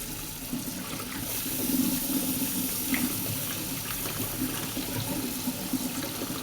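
Tap water runs steadily over shiitake mushrooms being washed for curry in a sink, a continuous close splashing rush with small clinks, no talk.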